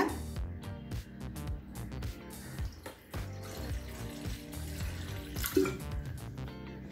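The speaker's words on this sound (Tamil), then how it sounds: "இப்போ கடாயில் தேவையான அளவு தண்ணி சேர்த்துக்கலாங்க" Water pours and splashes into a metal kadai pan while cooking curry leaves rice, with clinks and a continuous running sound of moderate loudness.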